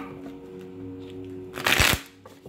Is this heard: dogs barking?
no